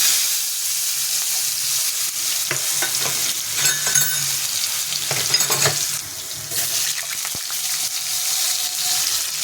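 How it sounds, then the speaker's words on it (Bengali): Potatoes and whole nigella seeds fry in hot oil, a loud close sizzle that hisses continuously with bursts of crackling and occasional stirring scrapes. "তেল দিয়ে দিয়েছি, তেলটা গরম হচ্ছে। এবার আমি দিয়ে দেব গোটা কালো জিরে, দেবো আলুটা।"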